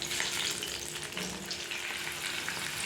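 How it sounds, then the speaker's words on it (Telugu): Tomatoes sizzle and spit in oil over fried red chillies for a pachadi, a dense continuous frying hiss heard up close with no talking. "ఇప్పుడు టమాటాలు కూడా వేసి మగ్గించుకోవాలండి మనము"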